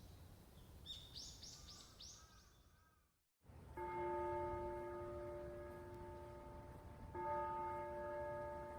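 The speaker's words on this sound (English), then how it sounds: "The bell in the clock tower chimes the moment we step into the school building." A clock tower bell at a school building rings out with two loud, sustained strikes that hum on and linger, the second arriving a few seconds after the first, following a brief stretch of chirping birds and a moment of silence.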